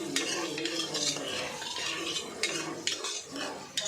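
Tomatoes fry in a pan while being stirred, with a dense sizzle and sharp metallic scrapes and taps of a utensil against the pan, close and continuous, no voices.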